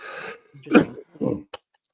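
Several short coughs and throat clearings from one nearby person, clustered in quick succession over about two seconds with brief pauses between bursts, ending in a sharp little hack.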